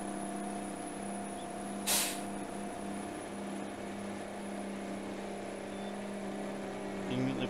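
Power truck engine held at full throttle climbing uphill in Farming Simulator 2019, a steady droning engine with layered harmonic hum, a brief hissing burst near the start, and faint clicks toward the end.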